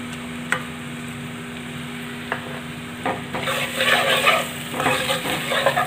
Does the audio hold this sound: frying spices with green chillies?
yes